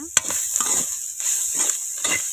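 A spoon scrapes through curry with tamarind juice in a pan, making several short, close stirring strokes in a steady rhythm over a faint background sizzle.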